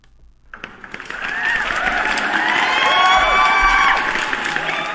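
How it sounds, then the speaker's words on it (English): Applause and cheering from a crowd bursts in after a brief quiet moment, then swells into loud, sustained clapping mixed with whoops and high excited shouts that carry through to the end. "Let me give you guys a round of applause again"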